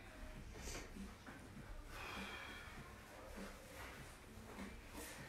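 Sharp, forceful exhales from someone exercising at home, a few breathy bursts spread through a noisy room with a faint voice in the background.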